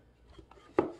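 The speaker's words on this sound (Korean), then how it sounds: "여러 번 칼질하고, 슥싹, 슥싹." A toy knife strikes toy food once in a sharp, close chop after faint light scraping, the hit crisp and brief like a plastic blade meeting a plastic cutting board.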